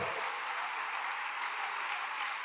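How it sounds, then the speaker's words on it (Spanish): Steady, sustained clapping from a church congregation, a dense wash of many hands filling the room for a couple of seconds with no voices over it. "Denle un fuerte aplauso al Señor"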